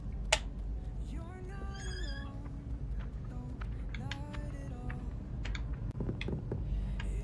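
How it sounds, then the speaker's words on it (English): A cat in the Hogwarts Legacy video game gives several drawn-out meows over a low background hum, with clicks and keyboard-like taps scattered throughout. "Oh, a cat. I must pet."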